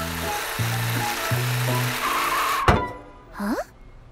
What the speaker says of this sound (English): I can hear the bus, but I can't see it, Morphle.